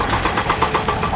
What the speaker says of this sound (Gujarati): બ્રેકર ચાલુ જ છે કન્ટિન્યુ.